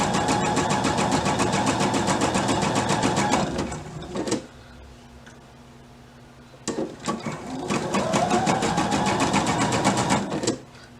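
Sewing machine stitching in two long runs of rapid, steady mechanical whirring and ticking, close and loud, separated by a quiet pause with a few handling clicks.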